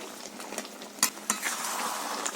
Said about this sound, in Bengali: মশলাটাকে দিয়ে আমি তিন থেকে চার মিনিট ফুটিয়ে নামিয়ে নেব